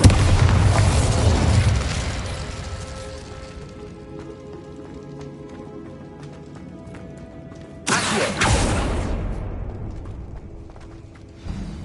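An Incendio fire spell in a Harry Potter video game blasts with a loud whooshing burst that fades into a decaying rumble, then a second strong blast follows and dies away slowly.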